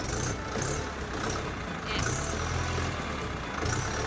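A Ford 6610 tractor engine idling nearby, a steady diesel rumble with a rough, continuous low throb and faint higher mechanical whine, with no speech over it.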